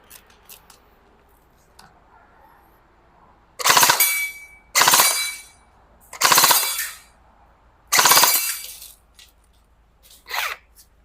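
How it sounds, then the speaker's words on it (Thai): An E&C 302 M4 CQB electric airsoft rifle with a metal body fires full-auto in four loud, close bursts of about a second each, followed by a shorter fifth burst, with quiet gaps between them. "เห็นไหมยิงได้ปกตินะครับ ตัวปืนไม่มีปัญหา"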